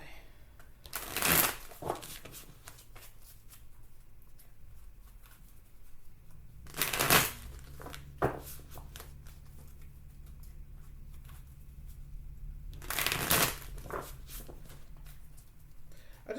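An angel tarot deck is shuffled in three loud riffling bursts spread across the stretch, with quiet pauses and occasional soft handling noises in between, plus a brief spoken word.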